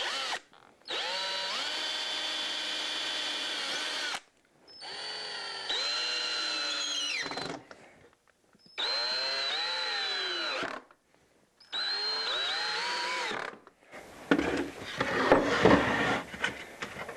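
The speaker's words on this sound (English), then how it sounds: "I'm going to come in and put some more screws in to make sure it's going to stay together." Power drill driving screws into an LMI side bender custom mold template, in four separate whirring bursts of a few seconds each with short pauses between them, loud and close, followed by a rougher clattering noise.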